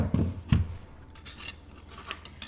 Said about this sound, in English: And I'm just cutting these right out of the paper.